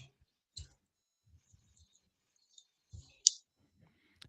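Sparse computer keyboard keystrokes, a few isolated clicks spread across the moment with one sharper tap near the end, quiet and close with no talking.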